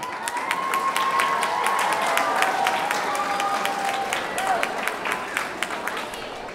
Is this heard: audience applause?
yes